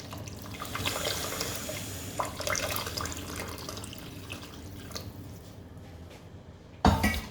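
Half a cup of water poured into a pot of simmering nargisi kofta, a close splashing and bubbling pour that tapers off, followed by a brief clatter of the pot.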